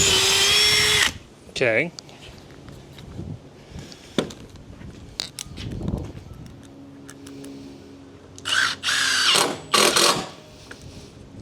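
Cordless power drill whirring in short bursts while driving into wooden decking boards on a Harbor Freight 5x10 trailer outdoors, with wind noise, a rising motor whine and someone talking between bursts.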